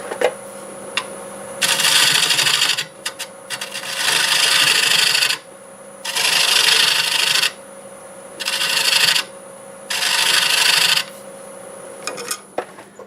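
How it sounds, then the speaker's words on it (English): A half-inch gouge shear-scrapes black walnut spinning on a lathe, four loud, sustained rasping passes of about one to two seconds each, separated by short pauses under a steady motor hum. "I think I'll just shear scrape that with my 1/2-inch gouge."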